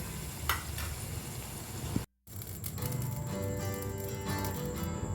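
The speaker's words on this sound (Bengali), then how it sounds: "এবার এটার মধ্যে মাটনের স্টকটা দিয়ে বেশ কিছুক্ষণ ফুটিয়ে নিতে হবে" Red mutton curry bubbling in a pot after mutton stock is poured in, a steady close sizzling simmer with a brief break in the sound partway through.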